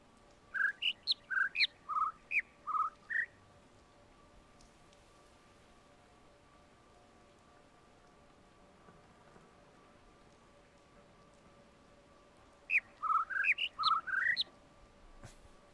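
Bird chirping in The Witness video game: a run of about eight quick bright chirps, a long quiet stretch of soft ambience, then another similar burst of chirps near the end, clear and close.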